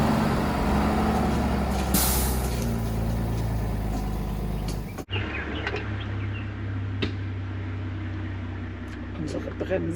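The air brakes of an offroad camper truck let out a loud, steady hiss for about five seconds. The hiss cuts off sharply and leaves a low engine rumble with faint clicks.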